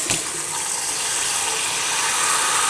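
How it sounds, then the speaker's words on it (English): Water running from a tap or being poured steadily into a turkey roasting pan, a continuous bright splashing stream with a sharp onset, holding at an even, fairly loud level with no talk. "Alright, so I'm going to add just water to this."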